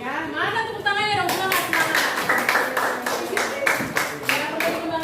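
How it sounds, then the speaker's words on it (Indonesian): Classroom students clap their hands during a lesson, starting as scattered claps and settling into a fairly steady rhythm. A voice talks over the first moment, and the room stays moderately loud throughout. "Ya, mana tepuk tangannya dong?"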